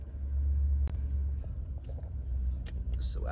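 A car driving on the road at dawn: a steady, deep rumble of engine and tires with a brief knock or bump, then faint voices and rustling toward the end.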